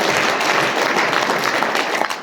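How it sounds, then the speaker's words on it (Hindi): Audience applause at a motivational business talk in Hindi, sustained dense clapping from a crowd, loud and steady for the whole stretch with no speech over it. "एक बार जोरदार तालियां चाहता हूं,"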